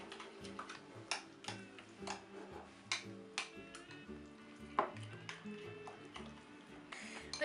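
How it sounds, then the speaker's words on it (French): Two fromages blancs are stirred together in a bowl, the spoon making quiet, irregular clicks and taps against the sides over a low room hum. "je mélange les deux fromages blancs jusqu'à ce que ce soit assez homogène"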